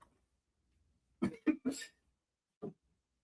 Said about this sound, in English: I really hate dry coughs.